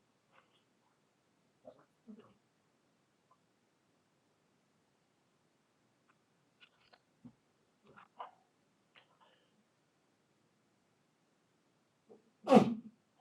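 One loud, close sneeze comes near the end of a quiet classroom physics lecture, after a few faint scattered rustles and small knocks.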